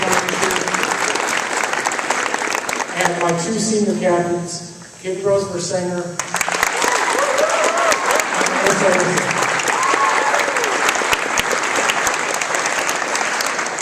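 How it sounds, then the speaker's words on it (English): A school assembly audience claps for students in a long, loud, continuous round of applause, dipping briefly while a speaker talks over it before swelling back to full strength. "if you give her a round of applause"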